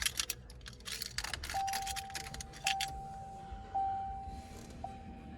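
Car keys jangle in short metallic bursts inside a 1989 Grand Marquis, with a steady chime tone ringing repeatedly underneath and no talking.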